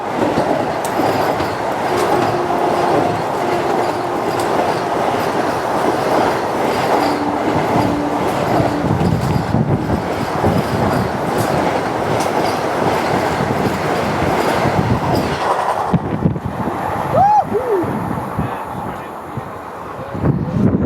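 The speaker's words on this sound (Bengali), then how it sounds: "বন্দে ভারতকে পাস করালো।" The Patna Vande Bharat Express passes through a station platform: a loud, continuous rumble with rhythmic wheel clatter and brief metallic squeals toward the end, heard up close.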